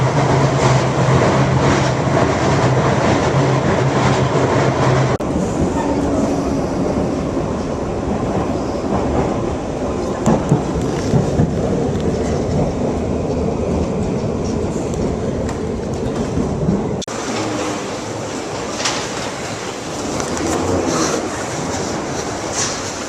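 A London Underground tube train rides toward Heathrow, a loud steady roar of wheels and carriage rumble with rattles, continuous throughout, with no talk.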